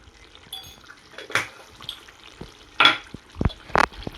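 Mutton curry fries in a pan with a soft, low sizzle, broken by a few louder close stirring scrapes and splashy bursts of the thick mixture, with no talking.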